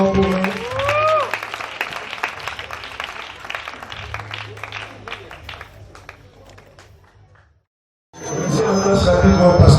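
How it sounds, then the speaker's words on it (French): Applause and cheering from a crowd at a 20th wedding anniversary celebration for a couple, fairly loud clapping with whistles and voices that fades out to near silence, then talk and noise resume. "Acclamons pour eux."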